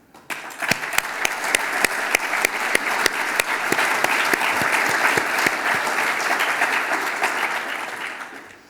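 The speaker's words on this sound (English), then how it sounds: "I think tonight everyone in this room deserves a round of applause" Room-wide applause at the RIBA President's Medals awards ceremony, a full audience clapping for several seconds: a few sharp, close claps start it, the rest builds into dense, loud sustained clapping, then thins out at the end.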